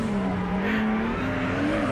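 A Nissan 200SX S13 with a 2JZ engine drifts with a continuous loud engine drone and tire squeal, close and unbroken throughout.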